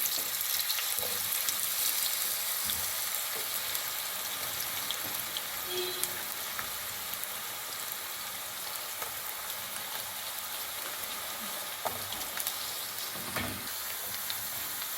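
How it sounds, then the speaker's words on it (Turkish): Steady, dense sizzling of potatoes frying in hot oil in a pan, a continuous crackling hiss with occasional louder pops and faint clinks, no talking. "Patatesleri arkalı önlü çevirerek kızartıyorum."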